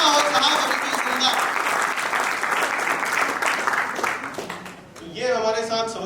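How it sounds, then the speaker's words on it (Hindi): Audience applause at a mindfulness talk, a loud dense wash of clapping from a crowd that dips briefly near the end and then swells again with cheering voices. "let us give a big and जोरदार तालियों के साथ"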